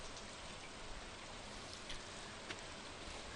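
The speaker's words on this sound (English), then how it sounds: "It's raining today." Rain falls steadily in the Stardew Valley farming game, a soft, even patter of drops with faint scattered ticks, continuous and fairly quiet with no voices.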